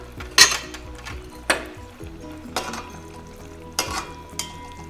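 Okra (bhindi) cooking in a pan gives about five separate bursts of sizzling and stirring scrapes, each flaring briefly and then fading back to a quiet background between strokes.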